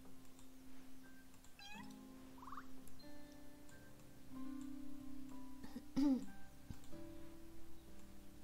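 A cartoon cat meows several times in the video game Cats in Time, short rising and wavering cries over soft game music and ticking, with a person talking quietly in between.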